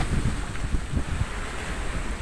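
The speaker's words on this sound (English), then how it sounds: "the wind has increased again" Gale-force wind of about 35 knots roars steadily at sea with waves washing and surging underneath, a rough, constant open-water sound with no voices.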